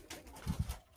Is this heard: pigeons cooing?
yes